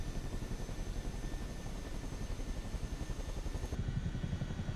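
Chinook twin-rotor helicopter in Microsoft Flight Simulator 2024 gives a steady, pulsing rotor chop with a dense low thrum, fairly loud, and shifts character near the end.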